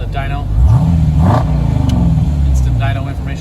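Dodge Durango SRT engine revving on a dyno, a rising and falling rev around the middle with steady engine drone throughout, close and loud, with a voice talking over it.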